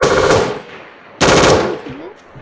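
Automatic gunfire from a weapon in the Roblox military game Rolling Thunder: two loud, close bursts of rapid shots, the first about half a second long and the second starting after a short pause and lasting slightly longer.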